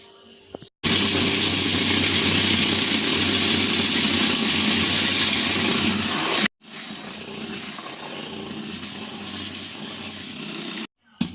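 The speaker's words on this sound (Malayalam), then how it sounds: "ഇത് കുറേശ്ശെ ചേർത്തിട്ട് നന്നായി ബീറ്റ് ചെയ്തെടുക്കാം." An electric hand mixer beating eggs with half a cup of sugar for a black forest cake batter, a loud steady whine running for several seconds, a brief stop, then another long run.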